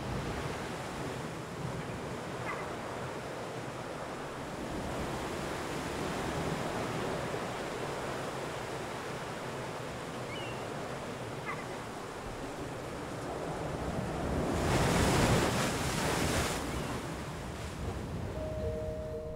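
Ocean waves and surf around the Channel Islands roll in as a broad, steady wash of noise, swelling into a louder crash near the end, with wind blowing across the microphone and no voices.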